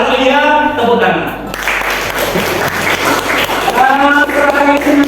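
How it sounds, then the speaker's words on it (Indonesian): Classroom students break into a burst of clapping lasting a few seconds, with a teacher's voice talking just before and after the applause. "Kalau iya, tepuk tangan."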